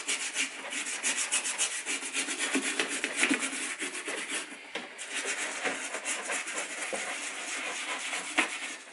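A stiff brush scrubs caked mud off a leather boot in quick, steady, scratchy strokes, close up and continuous, with no voices.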